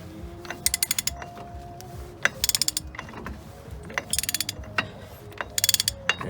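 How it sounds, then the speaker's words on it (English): A ratchet wrench clicks in quick bursts while breaking loose and spinning off a wheel bearing bolt on a 2001 Dodge Ram 1500 4x4, with metallic clanks between the close, loud ratcheting runs. "And that bolt turns right off."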